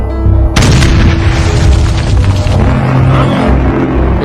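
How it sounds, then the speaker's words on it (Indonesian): A sudden loud cinematic explosion booms in, followed by a heavy rumbling roar and debris that slowly fades over several seconds. "tiba-tiba muncullah sebuah ledakan"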